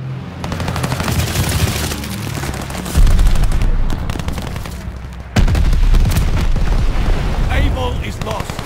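Bombing-run explosions thunder through a Call of Duty: Vanguard match, two heavy booming impacts landing about three seconds apart over dense continuous gunfire and rumble, loud and close.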